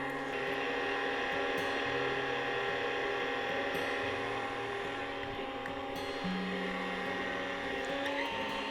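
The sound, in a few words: electric mixer mixing pumpkin cheesecake batter with brown sugar and molasses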